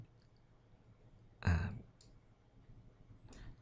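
One distinct mouse click, close and fairly quiet, while working in Maya 2018, followed by a couple of fainter ticks against a quiet room background.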